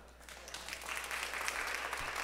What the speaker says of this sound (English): They're clapping for you out there.